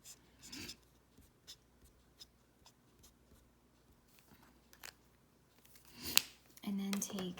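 A Spectrum Noir TriBlend marker strokes across paper to lay light yellow over a stamped image, giving soft, faint, intermittent scratchy rubs with quiet pauses between them.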